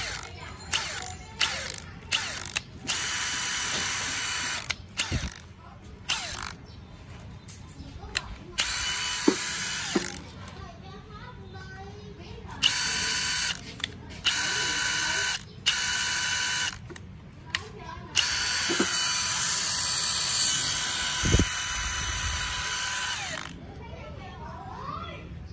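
A Makita XWT13 cordless impact wrench runs in repeated bursts, its trigger pressed slowly so the motor whirs and ratchets at varying speed, with short pauses between runs and someone talking throughout.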